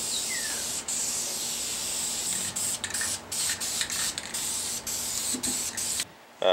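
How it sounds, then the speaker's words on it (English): Epoxy paint is sprayed onto rust-converted metal in a steady hiss. It cuts out in short gaps between bursts and is close and fairly loud, with no speech. "Now I'm going to shoot a little paint on it"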